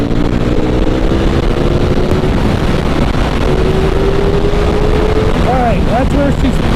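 A Ducati V4 Panigale motorcycle engine at full throttle in sixth gear, a steady loud roar with heavy wind rush over the microphone and a rising whine near the end.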